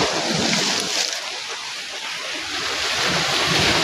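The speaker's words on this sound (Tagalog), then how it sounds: "Yan, lumalakas na guys ang alon." Ocean waves building in strength at an island shore, a steady loud wash of surf mixed with gusty wind buffeting the microphone, with no talking.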